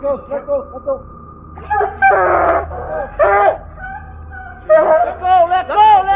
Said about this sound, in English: the dogs suddenly rush forward, chasing the cougar into the forest